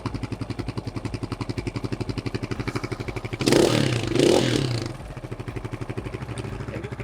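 SG250 motorcycle engine idling with a rapid, even putter. The revs rise in two louder swells midway as the idle speed is raised, then it settles back into a steady idle.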